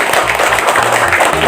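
Elementary school students clapping for a classmate who placed third in a calligraphy contest, a short, loud burst of steady, dense applause.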